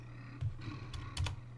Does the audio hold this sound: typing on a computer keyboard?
yes